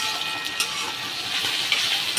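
Chicken curry masala with tomato, ginger and chilli sizzles steadily in a frying pan, a dense close hiss with faint crackles throughout and no voices.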